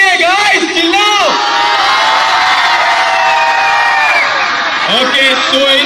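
A school audience of children shouts and cheers loudly at close range in one sustained roar, with voices rising and swelling, at a school event in a hall.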